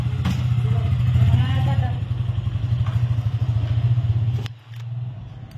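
A motorcycle engine runs close by with a steady low throb while people talk over it, then the engine note drops away near the end as the bike pulls off.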